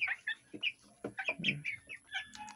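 Twenty-day-old broiler chickens cluck and chatter close by in a rapid, irregular series of short calls, with no talking.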